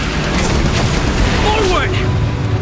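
A flaming lance attack explodes in Honkai Star Rail, a deep sustained boom with crackling rumble filling the whole moment, loud and close, with a sweeping tonal effect layered on top.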